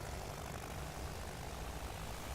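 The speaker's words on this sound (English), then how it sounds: "Well, the engines go." Airship engines spin up in the sky-island game Worlds Adrift, a steady, dense propeller drone that fills the moment at an even, constant level with no talk over it.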